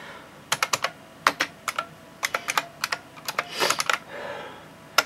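Typing on an IBM Model M buckling-spring keyboard attached to a new Windows 7 computer: loud, clacky keystrokes close by, in irregular bursts and pauses, with no talk.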